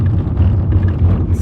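A car on the long road out to Moonville Tunnel gives a loud, steady low rumble of engine and tyres from inside the cabin, with a faint hiss rising at the very end.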